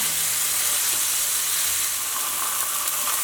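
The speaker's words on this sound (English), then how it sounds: "my pan's hot, it's starting to smoke a little bit, so I'm going to get the steak in there" Thin steak sizzling and frying in a hot, smoking wok, a steady loud crackling hiss of searing meat that fills the whole stretch with no talk over it.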